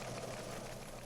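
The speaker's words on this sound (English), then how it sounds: "Weatherspoon stands in awe before his simple engine" A simple engine run on a cheap, harmonious fuel with no noxious fumes, heard as a steady, even mechanical hum and clatter that holds constant, loud and near, for about a second with no voices over it.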